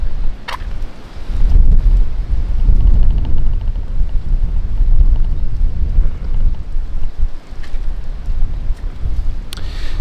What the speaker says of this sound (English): Now it's quite windy out here today.